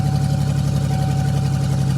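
A 1991 Mercury Cougar engine with its catalytic converter cut off and the check engine light on runs at a steady, loud, rough idle close by, with a faint continuous whine above the low drone.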